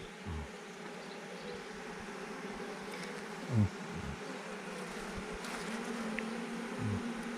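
Bees buzz continuously at low volume, a dense hum with a few individual insects drifting close past, no voices.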